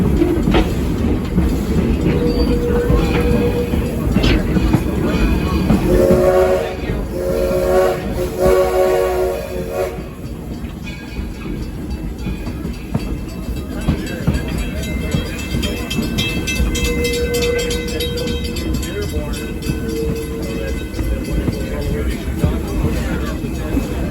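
Rail cars of the Edison village train clatter steadily along the track with a continuous rumbling ride noise, occasional squeals, and a voice speaking over the running train.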